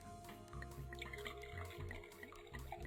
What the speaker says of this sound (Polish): Do tego dolejmy naszej wódeczki.